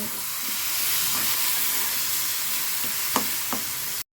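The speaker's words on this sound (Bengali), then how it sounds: "লাল শাক দিয়ে দেওয়া হচ্ছে রান্নার জন্য এটাকে বলা হয় লাল শাক বাগার করা হচ্ছে" Red amaranth greens being tempered in hot oil for a home-cooked meal give off a steady, close frying sizzle and hiss, with a few brief stir clicks near the end. No one speaks.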